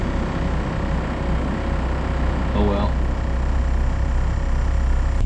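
A trawler's engine drones steadily and loudly throughout, with a brief spoken remark over the rumble.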